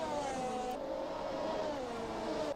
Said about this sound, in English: Ignore the sound of the engine in the background there. That's just people working in the pit lane